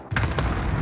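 Gunfire in Warzone, a short burst of sharp booming shots in quick succession from a gun, loud and close with a heavy low rumble, no talk over it.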